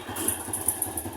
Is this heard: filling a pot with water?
no